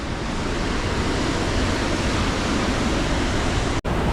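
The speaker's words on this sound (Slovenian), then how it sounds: "Slap Vela Peč v vsej njeni veličini. Gledajte to. Koliko vode." Vela Peč waterfall on the Pasjak stream in Istria, a dense, steady roar of falling water, loud and unbroken, heard from nearby with a brief dropout near the end.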